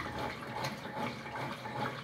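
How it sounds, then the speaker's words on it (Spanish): A Whirlpool washing machine fills with water, a steady broadband rush of running water continuing evenly and fairly close throughout, with no talk. "Ahí se llenó, cogió el nivel de agua mediana"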